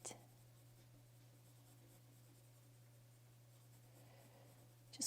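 Colour pencil shading on paper, a soft continuous scratchy rustle of the lead across the sheet, steady and close throughout, with a couple of sharper strokes at the very start and end.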